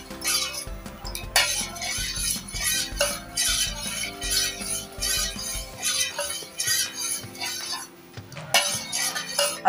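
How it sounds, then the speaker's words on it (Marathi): A utensil works oil and milk together in a bowl for an eggless sponge cake batter, giving repeated scraping and clinking strokes against the bowl in an uneven rhythm, close and fairly clear, with no talking. "तर आपण हे मिक्स करून घेऊया छान"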